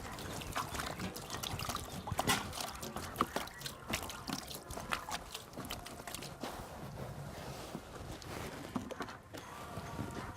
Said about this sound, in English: We use the water to cool the drum.